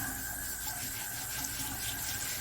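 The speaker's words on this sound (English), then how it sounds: "Just going to scrub these clean." Potatoes scrubbed with a scrubber under running tap water, a continuous close rush of water with soft rubbing texture throughout, no voices.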